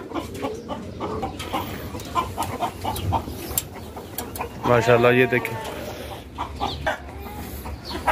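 Native hens, some sitting on eggs, cluck and murmur throughout, with a louder burst of clucking midway, while someone speaks over them.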